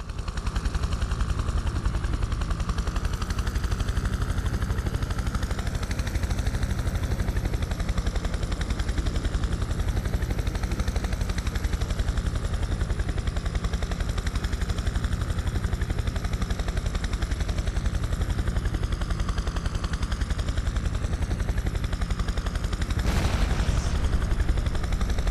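A military helicopter approaching and setting down on a helipad in the game Prototype 2, a steady loud rotor drone and engine roar throughout with a brief sharp burst near the end.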